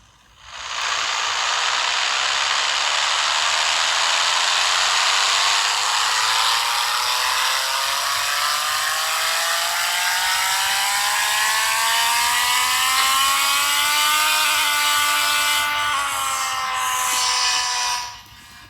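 A Ford RTR Boss 302 engine revving on a dyno in the video game Pixel Car Racer, a loud buzzy synthetic drone climbing steadily in pitch for about fifteen seconds, then shifting and cutting off.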